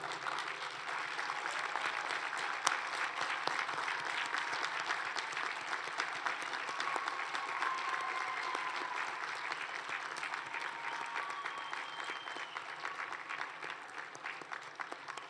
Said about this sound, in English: join us in applauding the families and other supporters of our students who are here today